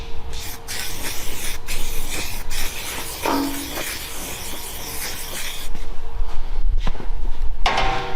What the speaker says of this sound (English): Now we're gonna spray some primer on there, some weld through